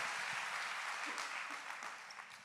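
Applause from a church congregation during an evening service, a steady wash of many hands clapping that slowly tapers off toward the end, with no voices over it.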